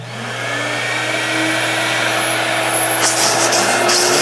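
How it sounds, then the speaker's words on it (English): A Doyle Air-N-Vac garage vacuum running close by, a steady loud whine with a whooshing airflow that ramps up over the first second and holds strong, with a few clunks near the end and no speech. "So we'll turn on the vacuum."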